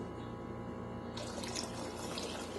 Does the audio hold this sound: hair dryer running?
no